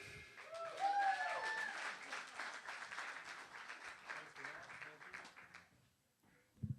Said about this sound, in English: No, keep clapping, come on.